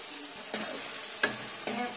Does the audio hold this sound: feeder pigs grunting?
no